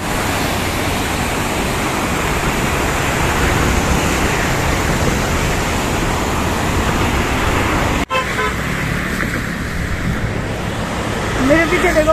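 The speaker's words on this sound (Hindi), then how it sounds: "मेरे पीछे देखो पानी के झरने ही चलने लगे, पानी के झरने मस्त।" Water rushing steadily from a waterfall, a loud, continuous broadband roar filling the whole clip without a break, with a brief dip near the end.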